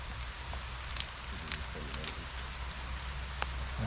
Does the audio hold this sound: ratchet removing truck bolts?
no